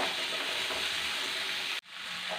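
Tomatoes sautéing with curry leaves in a pan give a steady, close sizzling hiss that breaks off abruptly for a moment, then resumes more softly.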